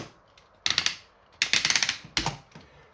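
Earthrise Scorponok toy's ratcheting joints clicking in three quick bursts of sharp, close clicks separated by short pauses, with no talking.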